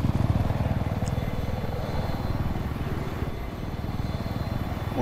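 A helicopter in the video game Battlefield 4 beats steadily with a dense rotor chop, close and loud for the whole stretch, with no talk.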